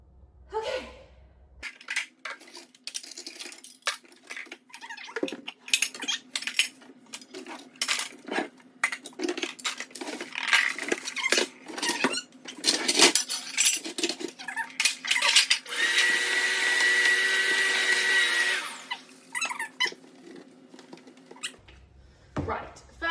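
Baking pans and other kitchenware are pulled out of a kitchen cabinet, giving a run of metallic clanks, scrapes and rattles close by, with a longer sustained clatter near the end and no talk.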